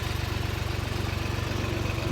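A tractor engine running on a field at a riverbank, a steady low throbbing idle with even pulsing vibration, close and continuous throughout.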